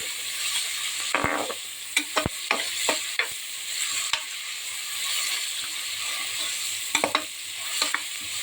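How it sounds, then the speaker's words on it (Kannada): Chopped onion and curry leaves frying in oil for a liver gravy, a steady close hiss of sizzling broken by sharp scrapes and taps of a spoon stirring the pan. "ಈರುಳ್ಳಿ ಎಣ್ಣೆಯಲ್ಲಿ ಫ್ರೈ ಆಗಬೇಕು"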